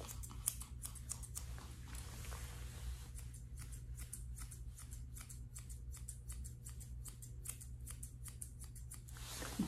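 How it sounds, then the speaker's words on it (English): Thinning shears snipping a Yorkie's fur during grooming, a quiet, close series of quick crisp clicks in irregular bursts throughout, with no talking. "Take my thinning shears. Go over some of these areas."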